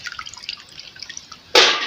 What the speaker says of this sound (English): transfer the beans into the sieve so that it will drain out the water before spreading it